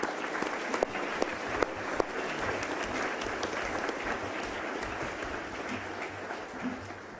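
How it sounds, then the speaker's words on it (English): An audience at a monthly meeting applauds its panel members: a sustained, even round of clapping from a room full of people, steady for several seconds before tapering slightly at the end. "let's give our panel members another round of applause"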